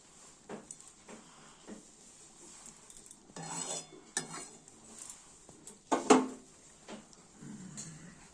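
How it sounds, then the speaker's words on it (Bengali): Chopped green chillies being mixed into a tadka in a pan, scattered metallic scrapes and clinks of a spoon against the pan with short bursts of stirring between quieter gaps. "এটা আমরা তরকার সঙ্গে ভালো করে মিশিয়ে নিচ্ছি।"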